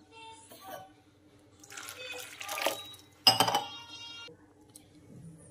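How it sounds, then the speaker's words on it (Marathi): Sago pearls being rinsed in water in a bowl, with sloshing splashes and clinks of the vessel in a few short bursts, the strongest near the end, with faint background sound between. "ही स्वच्छ 2 पाण्याने धुवून घेऊया"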